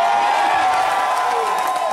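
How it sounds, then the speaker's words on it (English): A large audience at a live show cheers and whoops loudly and continuously, a dense wash of crowd noise with no pause. "And they're cheering."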